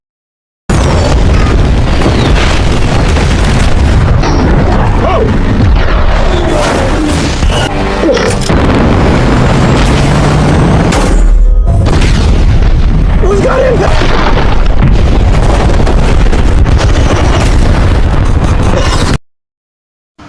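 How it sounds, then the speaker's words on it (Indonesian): Heavy bombs exploding in the Top Gun film, with deep booming blasts and rumbling debris filling a loud, dense action mix that runs throughout, under dramatic score and jet noise. "Bob berhasil menjatuhkan bom pertama mereka"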